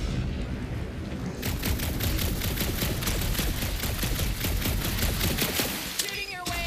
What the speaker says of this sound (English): Shooting your way out of everything, Peter